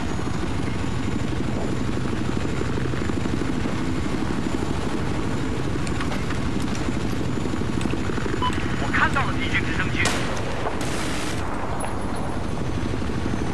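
Helicopter in the video game Battlefield 4 during a conquest match, a steady rotor drone running under the whole stretch while players talk over it, with gunfire bursts breaking in near the end.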